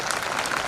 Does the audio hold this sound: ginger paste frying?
no